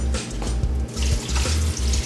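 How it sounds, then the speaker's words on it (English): Water or stock pouring over butternut squash soup ingredients in a pot, a steady rushing splash with a brief break midway, close and fairly loud. "So just cover your soup ingredients with stock or water."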